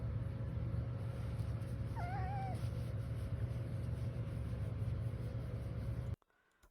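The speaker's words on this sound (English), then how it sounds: "I love a Siamese cat." A Siamese cat gives a single short meow, clear and fairly close, over a steady low background hum, ending abruptly in near silence.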